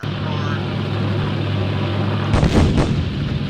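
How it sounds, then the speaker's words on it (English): Gunfire from a World War II Pacific naval combat video game: a steady engine-like drone with low hum, then a cluster of sharp loud bursts near the end, with some voice underneath. "we'll avoid the gunfire"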